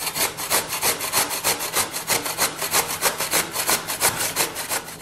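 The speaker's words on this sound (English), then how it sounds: "take the potatoes, well washed, and grate it" Washed potatoes grated by hand against a grater, a fast, steady run of rasping strokes, close and fairly loud, with no talk.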